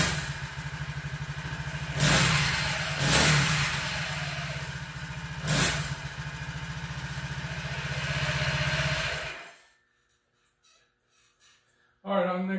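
A 4-stroke motorized bike engine, started cold, runs at a steady close idle with a few revving swells, then cuts off into near silence before a brief burst of running returns at the end.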